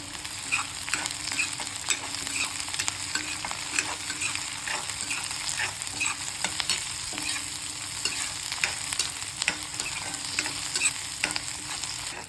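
Onions and a sprig of curry leaves fry in oil for mutton kulambu, a steady close sizzle with occasional stirring scrapes and no voices.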